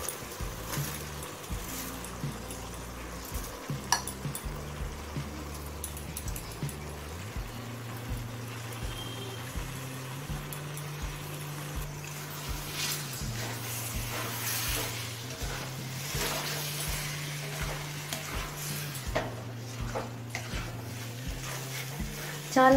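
Gobindobhog rice and dal are stirred into oil-rich fried spices for khichuri, giving a soft sizzle with a regular scraping stir pulsing through the second half.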